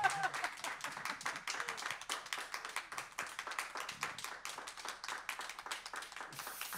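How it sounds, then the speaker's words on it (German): Clapping from a small audience at a talk event, a scattered, fairly quiet run of individual hand claps with irregular rhythm and a faint murmur of voices underneath. "Klatscht ruhig mal,"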